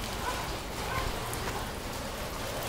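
Rain and floodwater rush through a neighborhood canal in a steady, dense wash of falling drops and flowing water, continuous and fairly close.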